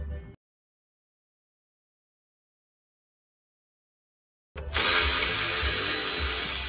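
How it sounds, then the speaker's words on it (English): A power sander runs steadily on a truck grill, a loud continuous whirring buzz that starts abruptly after a long silence. "So I'm gonna sand the grill and the wing."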